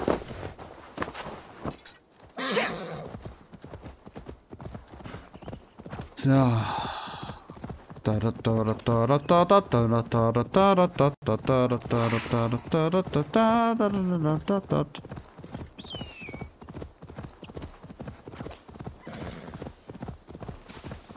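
A horse in the video game Assassin's Creed Valhalla gallops with rapid, even hoofbeats throughout, loud and close, while a long, tonal whinny rises in the middle and a voice talks briefly.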